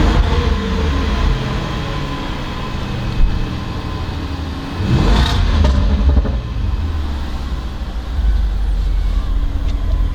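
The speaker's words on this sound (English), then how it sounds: "The 5-litre V8 comes to life." The 5-litre V8 of a 2017 Range Rover Sport SVR fires up with a loud burst, then settles into a deep, rumbling idle with throaty swells of revving.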